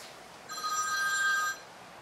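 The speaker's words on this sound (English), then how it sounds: "There goes that goddamn phone again." A telephone rings once in a steady electronic trill that lasts about a second, heard moderately close in a quiet garage.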